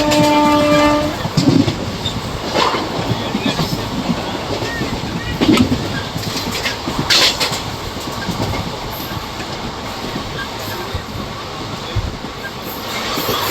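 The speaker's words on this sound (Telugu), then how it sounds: "Vijayawada Bhimavaram MEMU special." A Vijayawada–Bhimavaram MEMU special train runs past with loud, continuous rumbling and rail clatter, opening with a horn blast, heard close and steady throughout.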